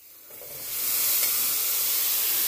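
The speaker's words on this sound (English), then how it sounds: "Let them sizzle." Strawberries sizzling in a hot pan, a steady, close hiss that starts soft and swells after the first second, then holds loud and even with no talking.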